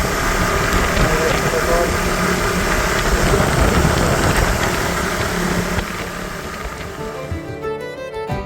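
A KTM Adventure 250 motorcycle engine drones steadily while riding on the road from Kolkata to Ranchi, loud and close under heavy wind rush, easing slightly toward the end.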